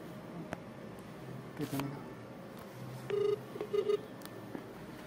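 A couple of short electronic keypad tones sound as a phone number is dialed, over quiet room noise and faint background murmur.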